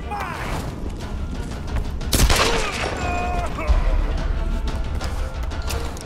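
Gunfire in the Tomb Raider video game cracks in irregular bursts, with one loud blast in the middle, amid mechanical clatter and a voice talking at times.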